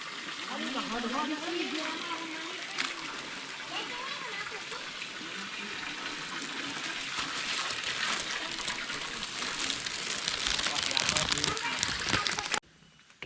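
Water pours steadily from a spout at the sacred Ciseger spring in Sumedang, a continuous splashing gush, while a voice speaks over it early on; the flow grows louder near the end before cutting off.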